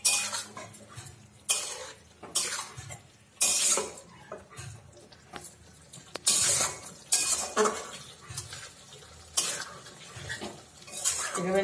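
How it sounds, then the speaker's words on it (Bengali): A spoon scrapes and clanks around a cooking pot of potatoes and chickpeas for a sweet aloo dorma, in repeated loud rhythmic strokes with metallic knocks between them and no talking. "এভাবে নাড়তে নাড়তে আলুটা সেদ্ধ হয়ে যাবে।"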